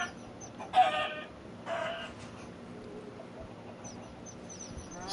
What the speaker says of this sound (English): We got a grown-up chicken already there.